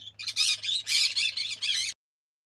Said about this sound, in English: my birds are being so loud